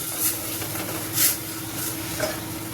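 Taro (arbi) pieces sizzle and fry in a pan while being stirred, with a few soft scraping strokes over a constant close hiss.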